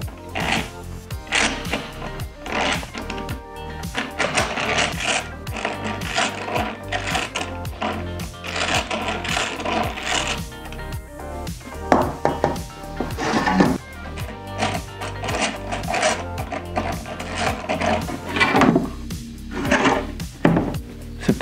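A power drill fitted with a metal bit trying to bore into an old snowboard plank for a homemade bench, whirring and grinding in uneven bursts, stopping and restarting over about twenty seconds, close and fairly loud.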